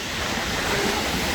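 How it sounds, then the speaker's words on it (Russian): Winter sea waves breaking on the Black Sea shore at Kudepsta, Sochi, in a cold, icy wind, a steady loud wash of surf with wind rumble across the microphone, no voices. "Вот такие сегодня великолепные волны."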